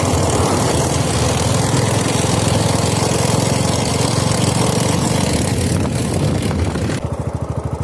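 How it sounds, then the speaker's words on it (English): A TVS XL-100 Heavy Duty BS6 moped from 2020 runs with a steady, loud, buzzing single-cylinder drone close by, then settles into a lower, pulsing chug near the end. "The engine sound too feels great"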